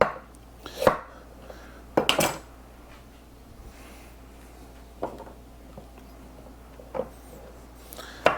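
Two washed, unpeeled carrots are chopped with a knife on a board for a chicken stir fry, a few sharp separate thuds spaced seconds apart over a quiet room.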